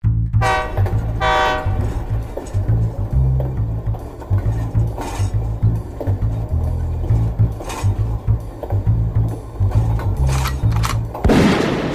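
A loud rumbling video game train rolls along with rhythmic clattering, a horn blast early on, and sharp bangs breaking through near the end.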